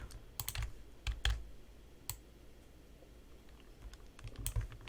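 Sharp, separate key clicks from a computer keyboard pressing Ctrl shortcuts while building in ZEPETO Build It, arriving in irregular clusters, moderately close, over a quiet room hiss with no talking.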